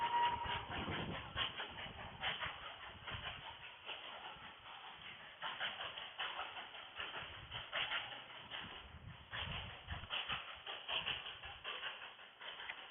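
A Darjeeling train passes nearby with a rhythmic chuffing and clattering shuffle, moderately loud and continuous, heard in muffled, narrowband quality without voices.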